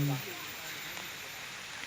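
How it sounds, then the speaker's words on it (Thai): Light rain drizzles in the Khao Yai forest as a steady, even hiss of fine drops, with a brief bit of voice at the very start. "ดูสิ ฝนก็กำลังโปรยปลายนะคะ"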